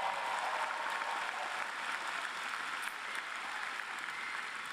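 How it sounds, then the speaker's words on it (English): Graduates at a college commencement ceremony in an indoor arena applaud, a broad, even wash of crowd clapping heard from a distance and fairly faint, sustained throughout. "Give yourselves a round of applause."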